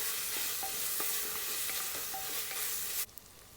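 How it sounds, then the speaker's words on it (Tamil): Tomato paste sizzles and is stirred in a pan for biryani, a close, dense frying hiss with light scraping strokes, ending abruptly with no voices. "இதோட பச்சை வாசனை போகிற வரைக்கும் வதக்கி எடுத்துருங்க."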